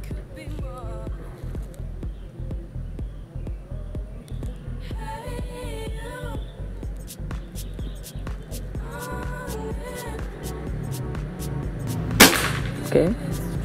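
A PCP air rifle fires one sharp, close shot near the end, following a stretch of quiet talking and small handling clicks.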